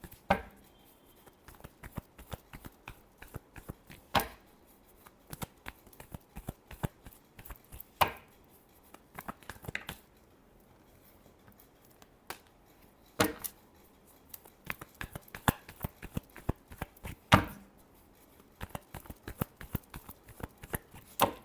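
Tarot cards being shuffled by hand, producing sparse, irregular soft riffles and taps with a few sharper snaps spread across a quiet background.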